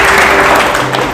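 An audience at a church gathering claps in praise, a short, loud burst of applause from a crowd close by.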